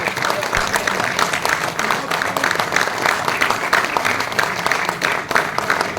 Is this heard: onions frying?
no